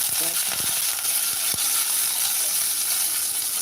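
Mustard seeds splutter in hot oil, making a bright continuous frying sizzle with scattered sharp pops and a few clinks, fairly close and steady throughout.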